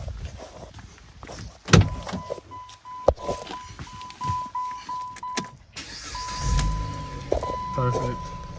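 A Dodge Avenger, just fitted with a replacement thermostat housing after a coolant leak, cranks and starts up close after clicks and a door or key sounds, then settles into a low idle, with a warning chime beeping repeatedly throughout.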